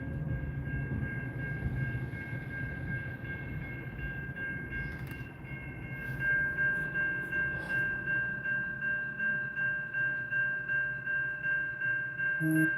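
A freight train passes close by: a steady low rumble with a sustained tonal whine, then a rhythmic clatter of wagons that grows louder and more regular in the second half. No voices.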